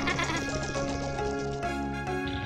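A cartoon lamb bleats in a sheep-themed children's animation, its wavering, nasal bleat rising and falling loudly and continuously over a bed of background music.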